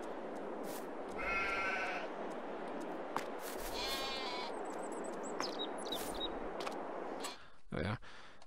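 Sheep bleat in Farming Simulator 22 beside a barn, with several distinct wavering calls at uneven intervals over a soft hiss of ambient noise and a few clicks.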